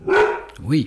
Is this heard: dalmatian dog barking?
yes